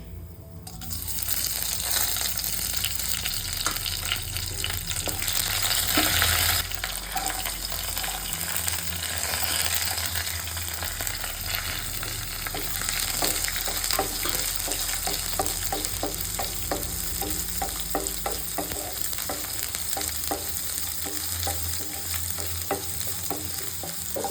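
Ingredients for a mango curry, with fenugreek seeds already browned, fry steadily in a pan as a continuous close sizzle, with rhythmic scraping and stirring sounds growing busier toward the end.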